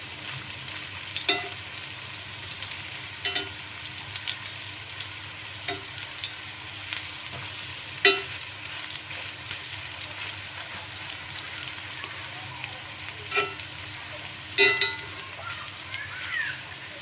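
Shapla water lily stems fry on a hot cast iron tawa, giving a steady close sizzle with occasional soft stirring scrapes and clicks throughout, with no talking.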